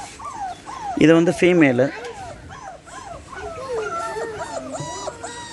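Kanni hound puppies, a Tamil Nadu breed, whimper and yip in high, wavering cries, loudest in one short burst and then repeated softly, while someone talks over them.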